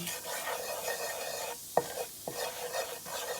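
Spices frying in plain vegetable oil make a steady close sizzle, broken by a few sharp clinks and scrapes of a utensil against the pan, with no voices.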